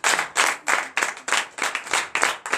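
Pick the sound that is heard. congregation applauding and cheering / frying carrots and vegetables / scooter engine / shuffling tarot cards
congregation applauding and cheering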